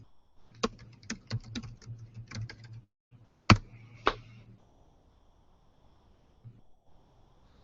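Typing a search on a computer keyboard: a quick run of crisp keystrokes, then a pause and a few sharper isolated key presses, close and fairly quiet with no talk.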